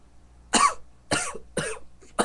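A person coughs four times in quick succession after smoking a harsh herbal blend, loud, close and dry, with short pauses between.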